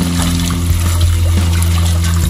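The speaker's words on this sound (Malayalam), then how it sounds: "ഇതിലേക്ക് ഒരു ജഗ് വെള്ളം ഒഴിക്കുകയാണ്" Water pours steadily from a jug into a metal pot for chicken biryani, a close, continuous gushing trickle with a low resonant hum underneath.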